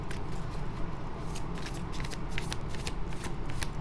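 Tarot cards shuffled by hand in a steady run of soft riffling and flicking rustles, close and continuous with no talk.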